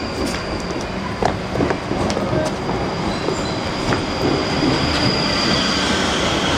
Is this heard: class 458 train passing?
yes